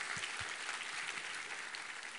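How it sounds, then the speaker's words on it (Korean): A church congregation gives steady, fairly faint applause, a dense wash of many hands clapping at once that holds evenly for the whole stretch. "하나님께 감사와 영광의 박수 올려드리겠습니다"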